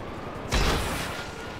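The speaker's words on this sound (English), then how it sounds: "Shoot a missile." Missile launch and blast in the GTA 5 video game: a single broad burst erupts about a third of the way in and decays into a rumbling tail, loud and close, with no talking over it.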